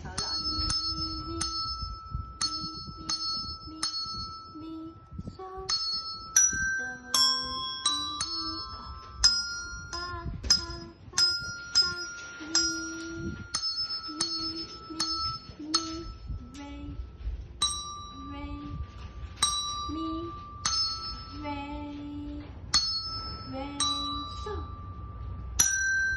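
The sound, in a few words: Jingle Bells played on an instrument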